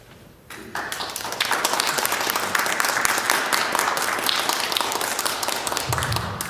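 An audience claps after a Christmas reading, applause bursting in after a brief quiet moment and then sustaining as a dense, even patter of many hands until the end, fairly loud and close.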